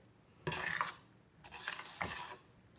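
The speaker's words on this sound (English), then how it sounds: "So stir that in there to make it all nice and blend in." Spaghetti with spinach and cheese stirred in a pot: three distinct bursts of scraping, squelching utensil strokes separated by short quiet gaps, close by.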